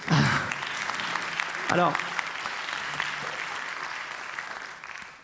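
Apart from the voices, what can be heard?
audience applause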